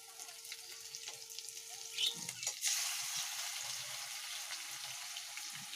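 Garlic paste and onion paste drop into hot oil in a pan with a sudden burst of sizzling that settles into a steady, faint frying hiss. No voices are heard.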